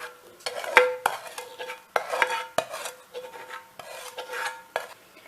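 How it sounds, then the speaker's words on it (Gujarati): A spoon stirs thick jaggery syrup through dry fruits in a pan, giving close scraping and clinking strokes in an irregular rhythm with sticky shuffling between them, and no talk. "અને આપણે ચમચા વડે તેને બધું બરાબર હલાવી લઈશું."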